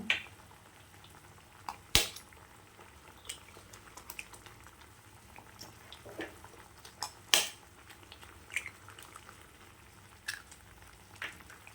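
Eggs cracked into a pot of boiling egg-curry gravy: a quiet, steady bubbling simmer broken by a few sharp clinks and taps of shell and utensil against the pan, with no voices.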